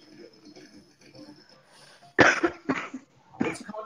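Several people cough in a few sharp, loud bursts after quiet, murmured background talk at the start.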